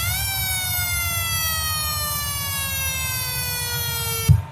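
An AS920 electronic siren box sounds one long, steady tone that slowly drops in pitch before cutting off abruptly with a click, over a low background hum.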